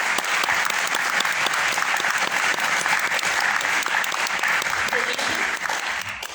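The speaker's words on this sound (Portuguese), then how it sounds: "Por favor, recebam o Felipe com uma salva de palmas." An audience at a psychological assessment lecture bursts into loud, sustained applause to welcome the speaker Felipe; the clapping is dense and close, with voices faintly mixed in, and it tapers slightly at the end.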